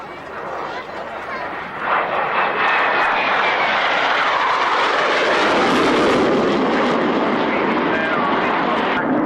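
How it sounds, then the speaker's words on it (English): A Royal Air Force Tornado F3 interceptor jet makes a low pass at an airshow, its roar building quickly into a loud, sustained broadband rush that fills the sky, with an announcer talking underneath. "The very impressive Royal Air Force Tornado F3 Interceptor."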